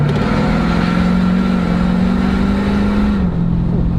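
A diesel truck with a DPF delete and 150 horsepower tune accelerates hard, its loud droning engine note climbing steadily close by before easing off near the end.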